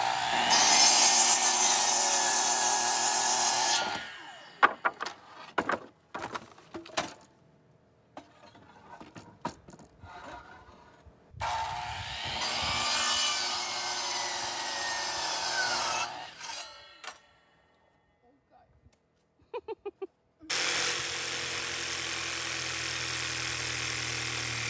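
A jigsaw cuts through wood in three separate passes, each a harsh, buzzing rasp lasting several seconds. Between them come quieter gaps with scattered knocks and handling clatter.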